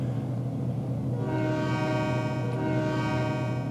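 A train horn sounds steadily over the rumble of a heavy locomotive consist in a railroad simulator game, the horn rising loud and sustained after a moment of engine drone.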